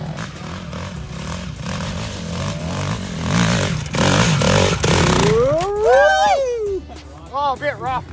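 A dirt bike engine revs roughly, a sputtering mid-range drone with uneven surges, followed by sharp rising and falling revs near the end, under overlapping voices.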